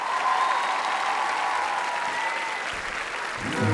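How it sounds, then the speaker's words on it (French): Audience applause at a Francofolies 2014 concert, a steady dense roar of clapping from a large crowd that holds for several seconds and swells slightly at the end. "sous vos applaudissements"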